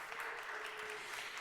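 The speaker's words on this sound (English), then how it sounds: "One more round of applause for each and every one of our speakers." Audience applause for the speakers at a Philadelphia city press conference, a short steady wash of clapping with a faint tone running underneath.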